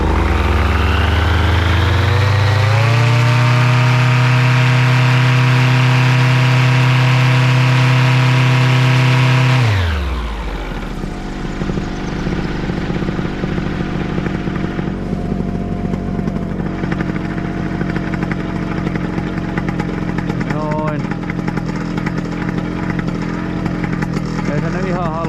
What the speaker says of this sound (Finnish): Mä annan tolle moottorille semmosen pienen täyskaasun, että tarkistetaan, että se oikeesti antaa täyden työntövoiman.